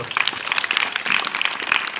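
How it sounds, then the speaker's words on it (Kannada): Clapping from an audience of parents and teachers for award-winning students at a school annual day event, dense and steady for a couple of seconds. "ಆ ಎಲ್ಲ ಸಾಧಕರಿಗೂ ಸಹಿತ ಒಂದ್ಸರಿ ಜೋರಾಗಿ ಚಪ್ಪಾಳೆ"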